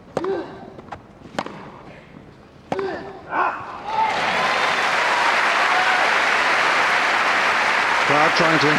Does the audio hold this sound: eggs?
no